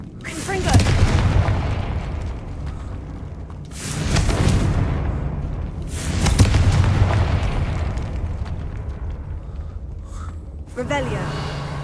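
Repeated booming blasts of the Confringo explosion spell in the Hogwarts Legacy video game, three loud rumbling bursts that fade, then a sharper crackle near the end, with a voice speaking over them.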